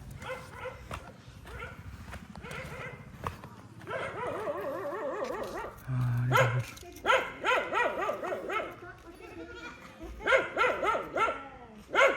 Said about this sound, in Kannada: ನಾಯಿಗಳೇ ಬೊಗ್ಲಿತೈತೆ ರೋಡಲ್ಲಿ, ನಾಯಿಗಳು ಬರ್ತವೆ ಅಂತ.